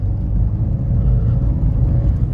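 A 2016–2017 Maruti Suzuki Swift Dzire VXi running on CNG pulls in second gear, a close, steady engine rumble that stays even and loud throughout.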